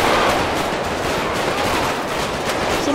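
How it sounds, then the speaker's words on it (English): Dense, loud automatic rifle fire in GTA 5 gameplay, a rapid continuous crackle of overlapping shots that barely lets up across the whole stretch. "Somebody shooting it with an automatic rifle."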